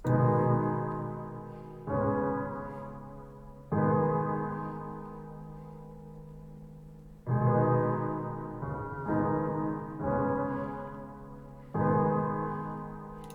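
A produced hip-hop beat built on a MIDI keyboard, its layered keys shaped with EQ, flanger and reverb, plays alone in sections that restart several times, each hit swelling then decaying with a natural reverb tail.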